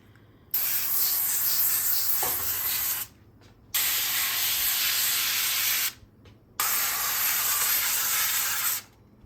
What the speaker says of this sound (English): So I'm gonna spray my oil. I'm using this avocado oil.